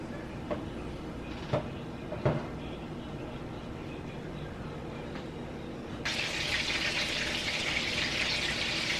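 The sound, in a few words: turkey burgers sizzling in a hot skillet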